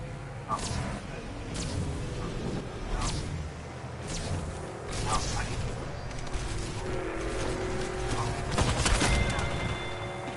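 Repeated gunshots and sharp cracks in the Apex Legends video game, scattered bursts at moderate distance over a continuous background of game noise, denser firing toward the end.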